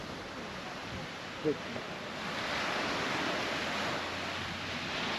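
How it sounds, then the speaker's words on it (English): Waves washing onto the beach at Sister Bay, Wisconsin, a soft, steady surf hiss swelling slightly partway through, with a brief bump near the microphone and no voices. "Here's the beach."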